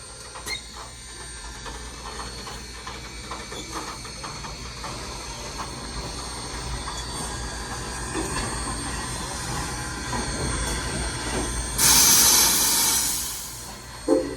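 Southern Railway 630, a steam locomotive, rumbles steadily on a turntable, with a loud burst of hissing steam near the end and a short clank at the finish; no one talks.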